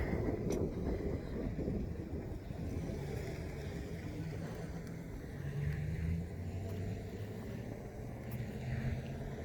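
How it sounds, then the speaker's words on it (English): Hot wind blowing outdoors at a house building site, a continuous low buffeting rumble against the microphone with slight surges, fairly faint and steady. "The wind is blowing, so it kind of feels like the oven."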